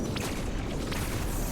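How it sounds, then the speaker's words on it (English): A shot bomb blob in the Metroid Dread video game sets off a dense rumble of overlapping explosions, loud and continuous through the whole short burst with no talk. "it releases a bunch of explosions into that area, and it because there's enough space, it'll reach this bomb blob"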